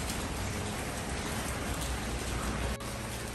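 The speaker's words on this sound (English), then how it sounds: "the rain started coming in last night, and it's been raining really, really hard." Heavy rain pours down hard at a new-build house during an Alaskan winter, a loud, dense, unbroken roar of drops with no pauses.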